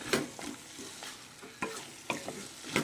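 Papaya vegetable being stirred and fried in a wok over high gas, with repeated scraping strokes at an irregular rhythm over a steady soft sizzle, close and moderately loud, no talking.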